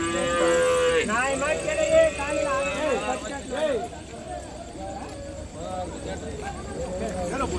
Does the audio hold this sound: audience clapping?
no